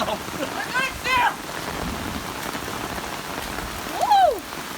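Heavy rain pours steadily on a surface outdoors in cold weather, a dense continuous hiss, with brief excited voices and whoops breaking in near the start and end.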